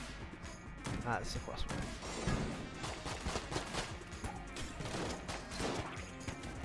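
Gunfire in Enter the Gungeon from a slow-firing but accurate gun: repeated sharp shots and crashing impacts sound throughout at moderate loudness, layered with game effects while a person talks over them.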